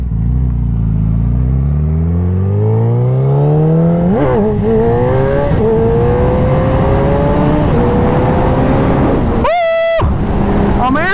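A Suzuki Hayabusa motorcycle accelerates hard into a wheelie, its engine note climbing steeply through several gear changes, loud and close, with a brief sharp high rev burst near the end.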